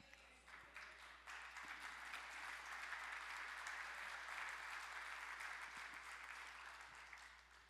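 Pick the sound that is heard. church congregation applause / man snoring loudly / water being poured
church congregation applause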